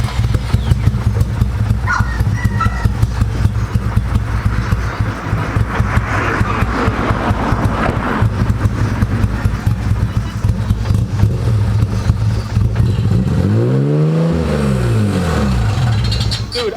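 A VR30-swapped Nissan 370Z engine revs in steady, loud bursts throughout, with a rising-and-falling sweep of revs near the end and people talking faintly underneath.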